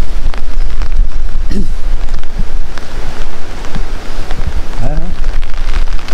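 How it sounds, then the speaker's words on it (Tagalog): Strong wind gusts roaring loudly and steadily into the microphone outdoors by a canal, with rain-like rustling throughout and faint voices in the background. "malakas yung hangin."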